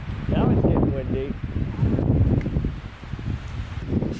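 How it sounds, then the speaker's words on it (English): Wind gusts roar against the microphone in low rumbling bursts during forest logging, with leaves rustling underneath and a voice speaking intermittently. "now it's really getting windy"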